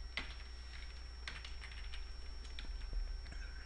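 Someone types on a computer keyboard, with soft, close, irregular key clicks over a quiet background hum.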